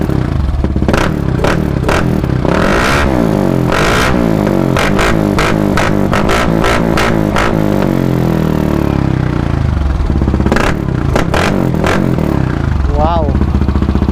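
Yamaha NMAX scooter fitted with a KAOU exhaust pipe, revved repeatedly in sharp, loud bursts close by, with clattery idle between blips and people talking over it.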